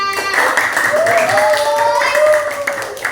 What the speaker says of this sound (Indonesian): Tepuk tangan buat temennya.